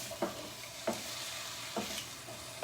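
Carrot and cauliflower sauté in oil with a soft, even sizzle and three spaced scrapes of a utensil stirring the pan, quiet and close, with no voices.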